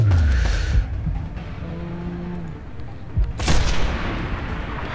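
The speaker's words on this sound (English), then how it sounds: "Snipe through the canopy now!" Booming gunfire in the Sniper Ghost Warrior 2 video game, sniper rifle shots fired through a damaged aircraft canopy: a heavy low blast at the start and another sharp boom near the end, over a rumbling engine-like drone.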